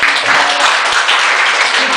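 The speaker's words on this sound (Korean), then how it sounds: "박수 받았습니다" A room of listeners gives a brisk round of hand clapping, loud and close, a dense continuous patter that fills the whole two seconds without a break.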